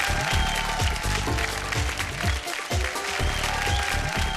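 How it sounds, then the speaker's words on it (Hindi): A studio audience on a Hindi television game show gives sustained, loud applause to welcome a master chef onto the stage, with dense clapping throughout and rhythmic music underneath. "जोरदार तालियों से अनिल खुराना जी के स्वागत करें।"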